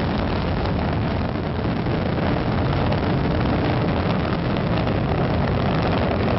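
The three liquid-fuel main engines of Space Shuttle Atlantis roar continuously during launch from the Florida Space Coast. The sound is a loud, unbroken, rumbling wall of noise with no pauses or talk.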